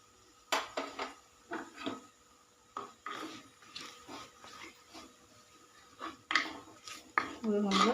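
Fish curry masala with chili powder is stirred in a pan, giving intermittent scrapes and knocks of the utensil at moderate distance. Some clearer clatter comes near the end, and faint background murmur sits beneath the sounds.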